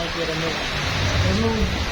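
Heavy rain falls steadily in an even, hissing wash around a waiting passenger vehicle, while people talk quietly over it.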